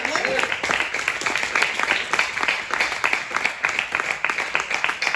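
A church congregation applauding steadily, dense overlapping claps filling the room at a constant, fairly loud level.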